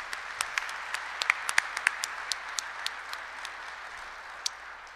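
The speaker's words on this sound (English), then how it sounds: "A round of applause again for everyone who had anything to do with this." Applause at a US Air Force Space Base Delta 1 change of command ceremony in Colorado: light, scattered hand claps from a modest crowd, steady for several seconds with crisp individual claps standing out, no talk over it.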